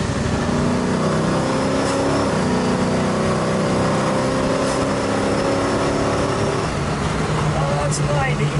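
A 1968 Chevrolet Camaro with a big-block engine roars in a loud, continuous drone as it drives at speed, with road and wind noise mixed in and a faint voice underneath.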